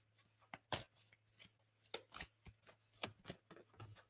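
A deck of tarot cards is shuffled in quick, irregular riffles and soft slaps, close up but quiet.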